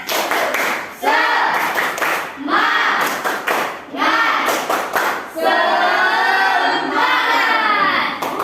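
A classroom of students claps a rhythmic spirit cheer in loud, repeated bursts of hand claps mixed with shouted voices, with short pauses between rounds.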